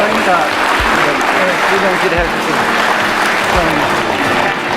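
An audience at a Korean World Couples' Day ceremony applauds an award-winning couple, with continuous dense clapping and a voice speaking through the applause.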